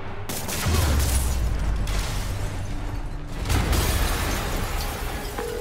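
Explosions and rumbling blasts in the Spider-Man Remastered video game, heavy booming bursts with crackling debris that surge twice over a continuous loud roar.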